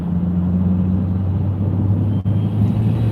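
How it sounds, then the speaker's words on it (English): Steady low rumble of road traffic at night on Florida's West Coast, a continuous engine drone with a brief dip partway through, no talk. "Man, a lot of traffic for this time of night."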